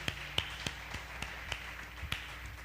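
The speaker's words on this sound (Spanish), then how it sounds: "Dale un aplauso al Señor." A church congregation claps for the Lord during a Spanish-language service, a sparse scattering of distinct hand claps at irregular intervals, fairly faint and distant in a reverberant room.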